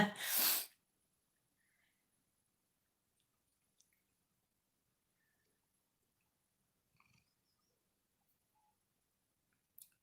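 A single sharp, close sneeze bursts out at the start, followed by near silence with a few faint small clicks and rustles.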